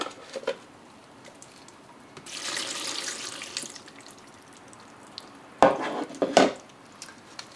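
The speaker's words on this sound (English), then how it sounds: "I'm just going to empty the reservoir first." Water emptied from the reservoir of an anthurium's plant pot, with a few seconds of pouring and splashing, then quiet handling and two sharp knocks of the pot, close by with no talking.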